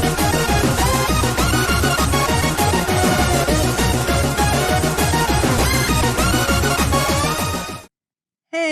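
Flandre Scarlet's theme from the sixth Touhou Project game plays as a loud, dense electronic arrangement with a driving beat and busy melody, stopping abruptly near the end before a brief restart.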